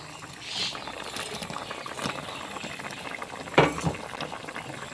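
Vegetable curry with potato, drumstick and ridge gourd bubbling softly in a pan as fried lentil dumplings are dropped in, with gentle simmering patter, a few stirring clinks and a sharper splash near the end.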